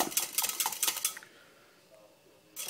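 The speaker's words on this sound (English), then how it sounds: "So the sugar is already liquid form, which is perfect for our marinade. And I'm just whisking that up." A whisk rattling quickly against a bowl while mixing a thick honey glaze marinade, a close burst of clinking that stops, followed by quiet and a brief return of clatter at the end.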